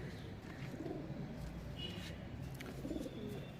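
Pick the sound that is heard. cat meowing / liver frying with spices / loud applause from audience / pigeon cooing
pigeon cooing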